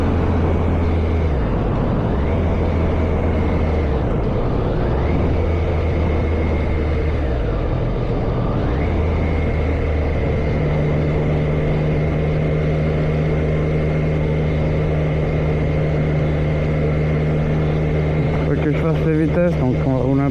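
Motorcycle engine in a video game while riding, a steady droning engine tone that rises and falls in pitch with gear shifts and throttle changes, continuous and fairly loud throughout.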